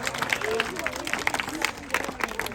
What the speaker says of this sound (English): Could you have a round of applause for that flight?